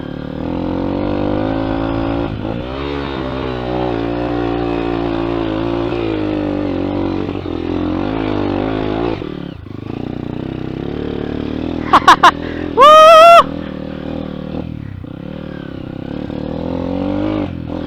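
A Honda XR200 dirt bike engine drones loudly and steadily with harmonic revving on a rough trail, interrupted briefly by a few sharp high-pitched squeaks near the end.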